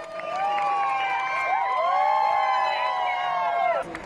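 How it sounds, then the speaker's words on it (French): A large crowd in Boston cheers loudly for police officers, the shouts and whoops rising into a dense roar with siren-like wails riding over it before cutting off abruptly. "Les habitants de Boston les acclament et les applaudissent."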